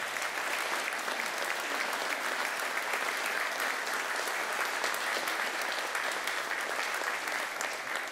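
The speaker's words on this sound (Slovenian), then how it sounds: "In lahko zaploskate, ja, seveda." Sustained audience applause fills a hall at a commemorative evening honouring Slovenian independence, steady and dense from start to finish with no pauses.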